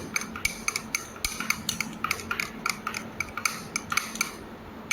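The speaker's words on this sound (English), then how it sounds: "Then make sure you stir it" A utensil stirs a mixture in a laboratory container, with quick repeated clinks and scrapes against the vessel in a steady rhythm, close and moderately loud, with no voices.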